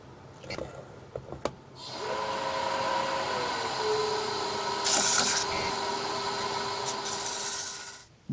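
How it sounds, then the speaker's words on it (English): A tool rasps and grinds against rough spalted wood on the inside of a goblet spinning on a lathe, with a continuous abrasive hiss after a few sharp knocks, close and fairly loud. "Still trying to smooth out some of that roughness of that the spalting has created on the inside"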